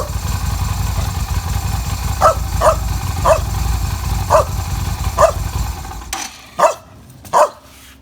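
An old dog barks repeatedly in a steady series of loud, close woofs over the low rumble of a motorcycle engine idling, which cuts out near the end, leaving two final barks alone.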